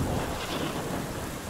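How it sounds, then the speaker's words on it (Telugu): A loud thunder clap from a story soundtrack rolls out as a dense, sustained roar with a rain-like hiss throughout. It is heavy and close, with no voices. "పెద్దగా ఉరిమింది."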